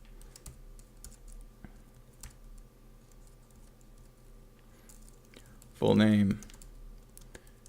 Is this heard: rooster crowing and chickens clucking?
no